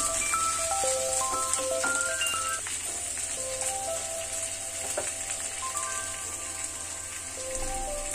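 Tomatoes go into a pan of capsicum and potato sabzi, and a steady, close sizzle of frying runs throughout with faint stirring clinks and no talk.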